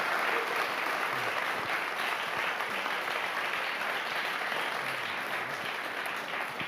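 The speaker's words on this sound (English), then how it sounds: "I give him a warm applause for this great talk." Warm, sustained applause from an audience at the close of a lecture on Holocaust history and survivor testimony, even and continuous, with no speech over it.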